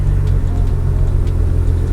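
Tuned Infiniti Q50 with a 3.7-liter VQ engine idling with a steady low exhaust rumble, light throttle blips bringing small faint pops and crackles over the drone.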